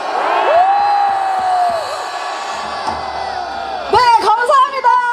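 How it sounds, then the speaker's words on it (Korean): A crowd at an outdoor rally at Daejeon Station plaza raises a loud shout near the end, following a long sustained amplified voice, with bursts of cheering and whooping. "대통령이 계신 곳에 함성 3번 외치겠습니다."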